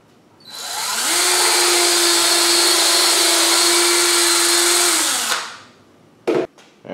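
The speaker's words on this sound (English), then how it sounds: "now I'm gonna pre-drill and screw it in." A power drill pre-drills and drives screws through a 2x4 to attach casters onto a wooden box, one loud sustained whine ramping up and running about four seconds before winding down, followed by brief clunks.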